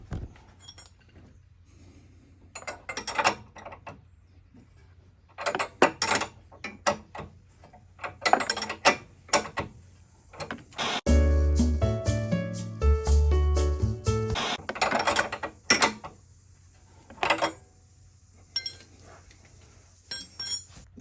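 A jack under a car's lower control arm ball joint is worked to raise the drum, giving quiet metallic clicks and ratcheting that swell into a dense burst of rapid mechanical clatter before tapering back to scattered clinks.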